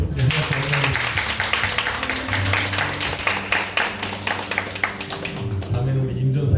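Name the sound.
congregation clapping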